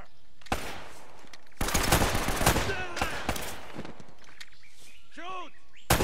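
Gunfire in the Uncharted action game, a dense volley of rapid shots bursting after a short lull, then tapering to sparse cracks with faint chirpy effects, loud and close.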